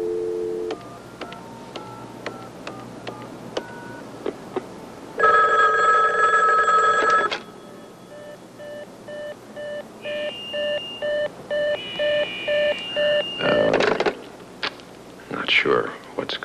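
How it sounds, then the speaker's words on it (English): Telephone dialing heard on air: a series of separate DTMF keypad tones, a steady two-tone ring, then short repeated beeps and more tones, loud and close with low background noise and no clear talk. "Let me just dial him right up here on the air."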